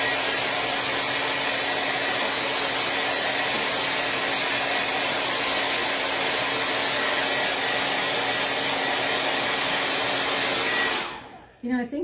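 Hair dryer blowing steadily on a patriotic USA map craft project, a loud, continuous broadband whoosh for about eleven seconds before it shuts off abruptly, with brief handling noise after.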